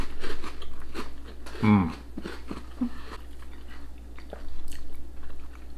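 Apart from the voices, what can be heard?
crunching bacon-flavoured TUC crackers with cheddar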